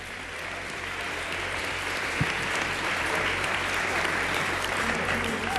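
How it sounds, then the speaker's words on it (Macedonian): Studio audience at a Macedonian Idol gala show applauding the contestants: a dense, sustained roar of clapping from a large crowd at steady loudness throughout, with a voice faintly under it. "Еден аплауз се разбира за нашите кандидати"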